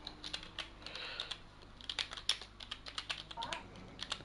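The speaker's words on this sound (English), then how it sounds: "I see you haven't practiced your typing over this off season." Quick, uneven typing on a computer keyboard, with a steady clatter of close keystrokes over a low background hum.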